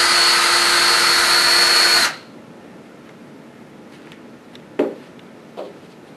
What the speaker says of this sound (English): reverse your drill and you can unwind your cord.